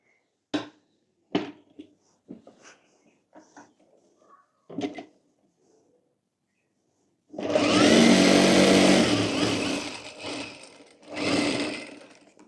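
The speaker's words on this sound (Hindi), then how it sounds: "जो हमने कट लगाया है वहां पर हम सिलाई कर लेंगे" A sewing machine stitches cut night suit fabric, first a few isolated clicks and knocks, then a loud sustained run of machine whirring with a brief pause before a second burst.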